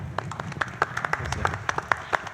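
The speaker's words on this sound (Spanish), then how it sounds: "Un aplauso, por favor, para el doctor." Moderate applause from a medical forum audience welcoming a doctor, many hands clapping in a rapid, uneven patter, fairly close with no talk over it.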